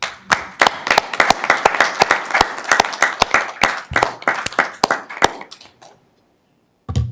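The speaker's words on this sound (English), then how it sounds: "So definitely think that's worthy of a round of applause." Crisp hand claps at a Sacramento City Unified School District meeting ring out in a brisk, irregular patter for several seconds, then fade to silence before one last clap.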